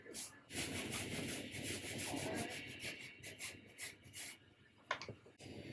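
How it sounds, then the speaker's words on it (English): A brush scrubs dirt off raised tyre lettering in quick, close, rasping strokes that keep a busy back-and-forth rhythm, then break into a few sharper scrapes near the end. "I'm going to clean this with my brush so that the part with the engraving is clean"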